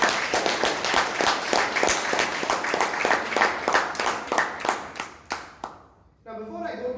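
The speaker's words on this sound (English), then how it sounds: "a huge round of applause for our table topics" Applause at a Bangalore Toastmasters club meeting: a small group claps in a rhythmic, fairly close patter that thins into a few separate claps before a voice begins speaking.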